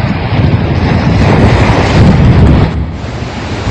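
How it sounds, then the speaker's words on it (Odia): Storm waves during a cyclone at Gauranga Patna crash over a sea wall onto the road in a loud, continuous roar, heavily buffeted by wind noise on the microphone, with no talking. "ଦିବାଲ ପାରି ହେଇକି ରୋଡ଼ରେ ବାଡ଼େଇ ହେଉଛି ପାଣି"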